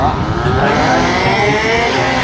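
A Triumph motorcycle roars down the strip at a drag race, its engine a loud, steady, continuous howl close by with crowd and track noise blended underneath, no clear speech.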